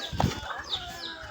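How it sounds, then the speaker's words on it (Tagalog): Chickens at a house on a mountain farm, a short soft cluck near the start followed by faint chirpy calls over quiet outdoor background. "Ang daming mga manok dito."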